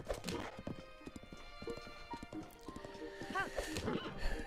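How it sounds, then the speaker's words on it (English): Horse hooves clip-clop in a rapid, uneven patter while riding in Breath of the Wild survival mode, with a whinny near the end, all fairly close and moderately loud. "I feel like riding a horse is a better way to get around in this mod"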